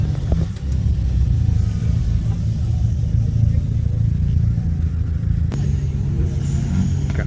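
A car engine revs at a crowded evening car meet, a steady low rumble holding throughout with a brief surge near the end, loud and close.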